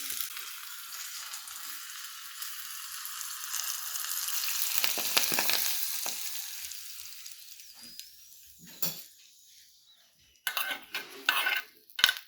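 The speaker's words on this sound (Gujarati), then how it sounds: "તેલ આપણું સરસ એવું ગરમ થઈ ગયું છે અને લસણને આપણે એની અંદર એકદમ થોડું બ્રાઉન કરવાનું છે" Garlic browns in hot oil for a spinach tempering, giving a steady close sizzle that swells and eases, followed by a few sharp clinks of a spoon against the pan.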